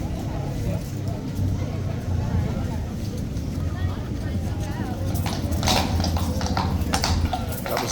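Hooves of a spooked horse at Horse Guards clatter and shuffle on the ground among a steady outdoor crowd murmur, with sharper scattered knocks toward the end.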